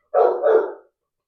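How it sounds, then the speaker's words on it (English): A single short dog bark, close and clear, one sharp burst with nothing else around it. "Confirmation barks."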